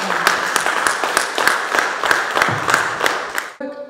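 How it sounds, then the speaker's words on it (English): An audience at a trade union and civil justice event claps in dense, steady applause close by for several seconds before it cuts off abruptly near the end. "can we give a round of applause to Louise and Jan?"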